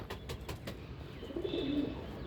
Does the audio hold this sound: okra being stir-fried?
no